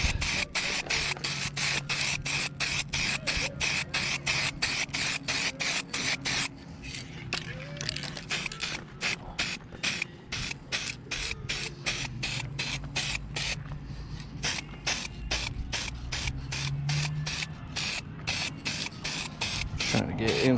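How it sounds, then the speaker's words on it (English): Spray paint bursting from an aerosol can onto the trim of a 1999 Lincoln Navigator, a rapid run of short hissing puffs that stays close and loud, with a short pause partway through. "I swear this can sprays better."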